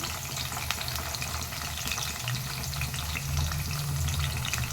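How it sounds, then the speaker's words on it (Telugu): Moringa drumstick pieces fry in a pan for an Andhra-style chicken curry, giving a continuous close sizzle and crackle with a low bubbling undertone and occasional stirring clinks. "కొంచెం ఫ్రై అవ్వాలండి మునక్కాయలు"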